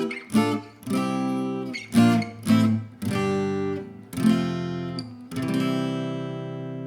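Strummed guitar chords play a chord progression in a rhythmic pattern of repeated strokes, close and clear with no voice.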